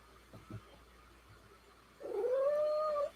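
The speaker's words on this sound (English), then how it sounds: "Yep, cat." A cat gives a single drawn-out, wavering meow close by, following a couple of faint soft sounds in an otherwise quiet room.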